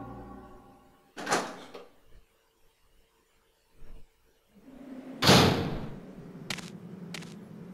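A door in the Resident Evil 2 video game, heard in two bursts: a sharp bang, then a louder slam followed by a grinding rumble and two quick clicks, with quiet stretches between.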